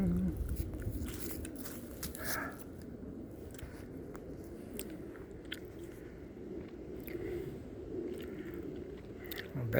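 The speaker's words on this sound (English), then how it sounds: "I think I'm chewing gum too loud for you." Gum is chewed loudly close to the mic on a creek-crossing hike through the woods, giving a steady run of soft, wet smacking and crunching over faint outdoor background noise.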